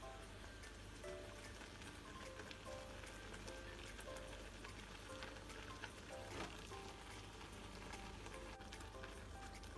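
Chicken pieces simmering in a coriander spice paste in a pan, a steady soft sizzle and bubbling that runs evenly throughout, fairly quiet with no talking.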